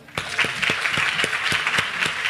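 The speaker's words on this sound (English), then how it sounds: "Give him a round of applause." An audience at a high school senior awards night gives a round of applause for an honored student: a short, fairly loud burst of dense clapping with a few sharper individual claps standing out.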